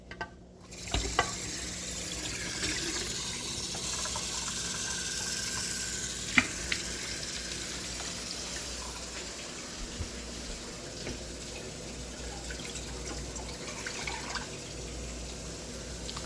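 Steady hiss of tap water running into cups for instant ramen in a kitchen, a continuous splashing stream with small clinks near the start and occasional faint knocks.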